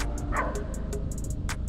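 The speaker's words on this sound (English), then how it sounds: "Peacock bass, right where the dogs are barking." Several short dog barks and yips ring out at a distance, scattered irregularly over steady low rumbling background noise, while peacock bass fishing near rocks in Miami.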